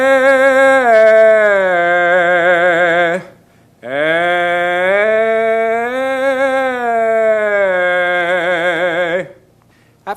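Solo voice sings a root-third-fifth triad exercise on an open "ah" vowel, rising and falling in two long sustained phrases with noticeable vibrato and a short breath gap between them, loud and close without accompaniment.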